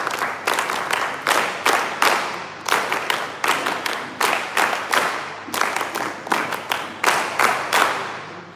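An audience claps in unison in a rhythmic pattern of repeated bursts, the NSS clap, loud and close, with regular short pauses between the groups of claps.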